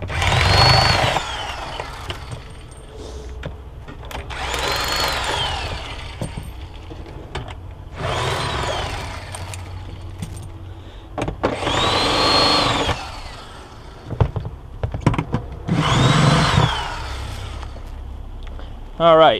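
Power tool spinning a 13 mm socket to remove floor pan bolts during cab removal on a John Deere E Series tractor, five separate loud whirring bursts of a few seconds each with quieter gaps and a voice talking between them.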